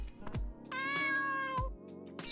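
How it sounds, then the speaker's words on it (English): A cat meows in the Dave the Diver video game, a single drawn-out, clear meow in the middle with soft clicks and thuds from the game around it. "Let's go give that cat food to Momo."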